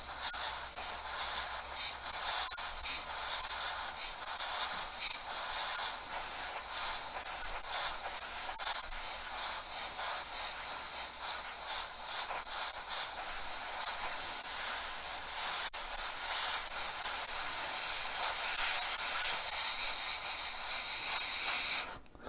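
An airbrush spraying paint freehand on a model of the Antonov An-225 Mriya aircraft gives off a continuous close airy hiss that holds steady for about twenty seconds, then stops abruptly, with no voices.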